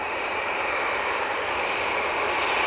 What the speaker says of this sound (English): there is a Ryanair. It's about to turn left down Victor Alpha.